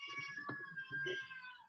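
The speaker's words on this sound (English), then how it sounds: "That's my cat, if you can hear him." Pet cat meowing indoors to be let outside, a few drawn-out, wavering cries with shorter calls between them, quiet and at a moderate distance, with no talk over it.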